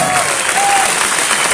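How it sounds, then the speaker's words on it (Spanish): A short burst of strong audience applause, dense and loud throughout, with faint crowd voices mixed into the clapping. "dense un fuerte aplauso por estar el día de hoy acá."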